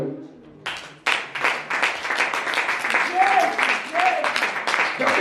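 A church congregation breaks into applause after a short pause in a French-language sermon, clapping swelling quickly and holding steady at moderate volume with voices and cheers mixed in.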